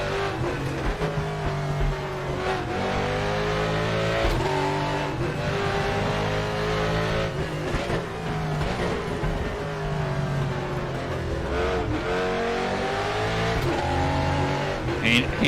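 Race car engine in the RaceRoom racing game, revving hard and shifting through gears in a sustained loud drone with rising and falling pitch and occasional tire squeal.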